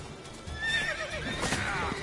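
A horse neighs in The Witcher 3, a wavering whinny at moderate distance over a low game ambience.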